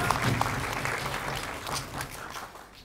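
Studio audience at a Bangladeshi talk show clapping together for a guest, a sustained wash of applause at moderate distance that gradually thins out toward the end.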